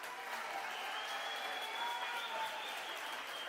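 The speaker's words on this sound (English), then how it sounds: "Big applause from the crowd." A crowd applauds at a swimming gala, a steady, fairly distant wash of clapping that holds evenly for a few seconds in an echoing pool hall.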